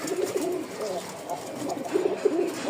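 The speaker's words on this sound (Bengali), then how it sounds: "দেখেন ডাকের আওয়াজটা" A Rajshahi pigeon coos in repeated soft, throaty rolling calls, close by, with a faint steady background hiss.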